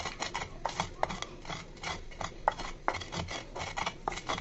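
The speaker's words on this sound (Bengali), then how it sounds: "মশলাটাকে সুন্দর করে বাটনার মধ্যে বেটে নেব।" Spices are ground by hand on a grinding stone, giving rhythmic scraping and rasping strokes in quick repeated passes, close and fairly quiet.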